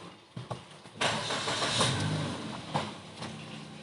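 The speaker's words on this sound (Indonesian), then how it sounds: "Suara mesinnya cukup halus juga ya" A 2017 Suzuki Ignis GX engine cranks and catches after a few clicks, then settles into a smooth, fairly quiet idle with a brief rise in revs near the end.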